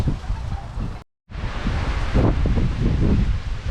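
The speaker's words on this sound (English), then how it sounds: "if you look at the wind blowing through at the minute, through the garden, it's really not." Strong wind roars through a garden on a blustery day, a loud, continuous broadband rush with gusts and rustling foliage, briefly cut out for a moment before returning just as heavy.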